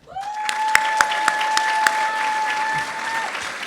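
A crowd at a student-athlete awards ceremony breaks into steady, loud applause lasting several seconds, while a sustained ringing tone hangs over the clapping until it fades.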